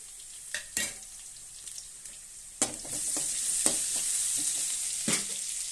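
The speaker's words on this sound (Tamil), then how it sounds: "பட்டை, கிராம்பு, பெரிய உள்ளி போட்டு நல்லா வதக்கி கொஞ்சம் நிறம் அரிச்சு பாருங்கள்." Cinnamon, cloves, onion and ginger paste fry in a pan for tomato rice, with several sharp scraping clicks of a spoon stirring and a sizzle that swells louder midway.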